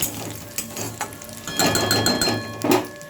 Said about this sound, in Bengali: একটা হাফ শুকনো লঙ্কা, এলাচ আর দারচিনি আর অল্প একটু জিরে। ফোড়নটা ভালো করে ভেজে নেব।